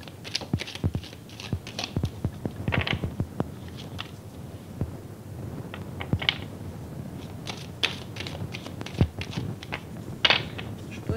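Tarot cards laid down one after another on a table, a series of quiet, irregular taps and soft slaps with light shuffling between them, close and faint.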